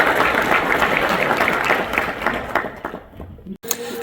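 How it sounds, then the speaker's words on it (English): An audience claps in a dense round of applause that thins and fades toward the end, with a few scattered claps and a brief gap as it dies out. "big round of applause"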